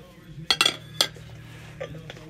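A square glass dish clinks while being handled, giving a few sharp close clinks and rattles in a quick cluster, then one more knock and a faint later tap, with quiet talk in the background.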